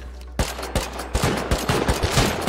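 Rapid video game shooter gunfire during a large 4v15 raid fight, with sharp repeated shots about every third of a second, loud and close, getting denser toward the end, with faint background noise in between.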